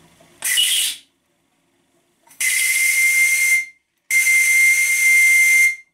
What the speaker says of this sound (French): Laissons chauffer le sifflet